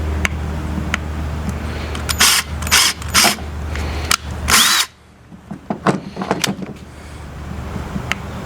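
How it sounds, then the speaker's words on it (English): A power drill whirs in several bursts, drilling holes in dimples on a mounting grid for a 2024 Chevy Colorado ZR2 with short revving pulses, then stops as clatter and handling noises follow close by. "take the larger of the drill bits, and we're just going to drill a hole in each of these dimples"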